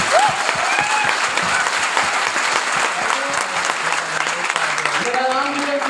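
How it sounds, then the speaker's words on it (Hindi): An audience at a mentoring talk bursts into loud, sustained applause, many hands clapping densely throughout, with cheerful voices and a few whoops rising over the clapping near the end. "तो एक बार पुराने लोग नए लोगों के लिए जोरदार ताली दीजिए।"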